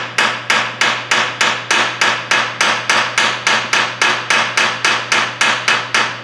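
Rapid, even hammer taps strike metal on a Case 830 Comfort King tractor's rockshaft housing about three times per second, each ringing briefly, with a steady low hum underneath.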